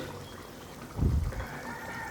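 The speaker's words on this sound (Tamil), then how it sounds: "இப்போ அடுத்து ஒரு பேனில் நான் எண்ணெய் ஊற்றிக்கிறேன்." Cooking oil poured into a pan, a brief close liquid splash and glug lasting about half a second in the middle, set against quiet kitchen background with no talking.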